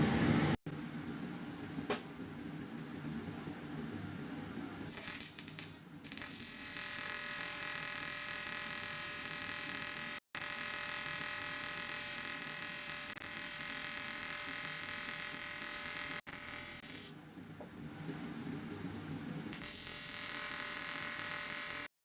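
TIG welding a crack in an aluminium electric bicycle frame: a steady electrical arc buzz with a fine hiss runs continuously, near and fairly loud, broken by a few brief cutoffs where the arc stops and restarts.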